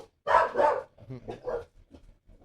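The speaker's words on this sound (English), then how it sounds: "There go my dogs." Pet dogs barking indoors during a conversation, a few loud close barks in quick succession followed by softer yips and whimpers, with some speech mixed in.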